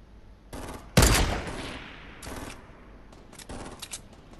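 A short volley of gunfire in the Fortnite battle royale game: one loud close crack followed by a few lighter, quicker shots fading out.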